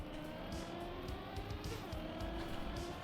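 Car in the Trackmania racing game sliding sideways on a non-ice surface while the driver counter-steers, a steady, close engine drone that holds a level pitch without climbing revs.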